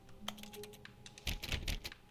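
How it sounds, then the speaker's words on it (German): Keyboard typing in the video game The Stanley Parable: quick clusters of soft key clicks, a few scattered taps and then a denser burst of typing, quiet and without speech. "Hört sich an, als würde da auf eine Tastatur tippen."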